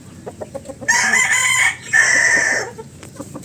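A brass back high-action broodstag gamecock crows twice in a row, each crow loud and close, standing out over faint background clucking.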